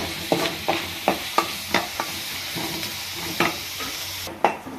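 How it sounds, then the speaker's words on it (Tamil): Onions frying in a pan with salt for prawn thokku, under a soft continuous sizzle, with a spatula scraping and tapping the pan in a steady rhythm about every half second, no voices. "வதக்கிறதுக்கு தேவையான உப்பு போட்டு நல்லா வதக்கணும்"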